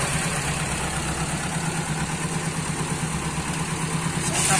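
A car engine fitted with a motorcycle ignition system idles steadily while being doused with a bucket of water, a close, even mechanical hum with a low throbbing rhythm and light clatter.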